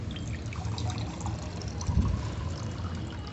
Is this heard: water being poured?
yes